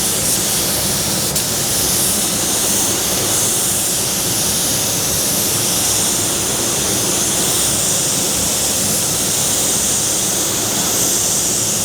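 Loud, unbroken hiss of a paint spray gun laying primer onto a Torana car body, steady and close throughout with no talking.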